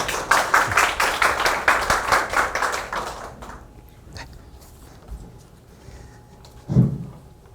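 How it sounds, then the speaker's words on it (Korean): An audience at a food-tech forum claps to welcome a speaker, a rhythmic burst of clapping for about three seconds that dies away into a quiet room, followed by a single brief thump. "뜨거운 박수로 환영해 주시기 바랍니다"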